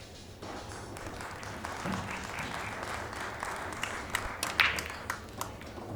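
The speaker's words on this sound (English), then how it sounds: "Brittany Bryant getting the applause there." An audience applauding at a women's professional pool match at the WPBA Masters, a steady moderate patter of clapping from the crowd, somewhat distant, with no talk over it.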